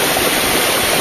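A river stream flows through a forest, giving a steady, close, rushing wash of water that holds even and loud throughout, with no voices.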